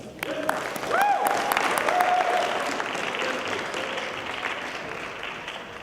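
Applause from an audience at a college student research poster session welcoming a speaker to the stage, a steady mass of clapping with some voices mixed in, fading slightly toward the end.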